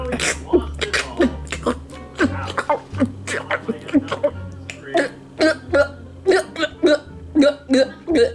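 Repeated hiccups from a person after drinking milk, a rapid series of short, loud, sharp vocal bursts close to the microphone, coming one after another.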